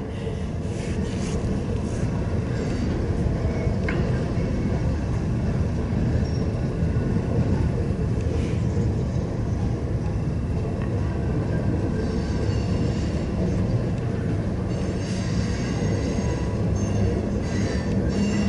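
A Norfolk Southern freight train rolls past in Elkhart, Indiana, a steady loud rumble of wheels and railcars with occasional squeals, close and continuous for the whole stretch, with no voices.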